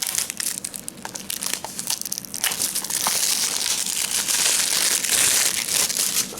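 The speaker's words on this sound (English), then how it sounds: "let's get this plastic open" Plastic shrink wrap being torn and peeled off an anime DVD case, close crinkling and crumpling that grows denser and louder partway through, with no talking.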